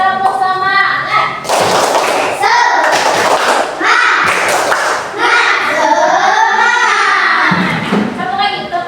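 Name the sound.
class doing rhythmic 'tepuk semangat' clapping chant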